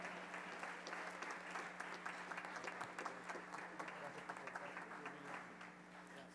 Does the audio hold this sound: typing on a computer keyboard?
no